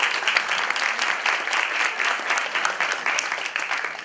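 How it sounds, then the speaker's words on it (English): An audience at a university event gives sustained applause, a dense, even wash of clapping from many hands with no talk. "Please give him a round of applause too."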